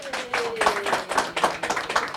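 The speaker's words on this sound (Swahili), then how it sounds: "Hapo tupige makofi." A crowd at Ambassador Esther Waringa's independent presidential bid launch in Kenya claps steadily and briskly, with dense, close applause filling the whole moment.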